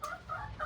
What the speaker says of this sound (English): we're gonna let the chickens run free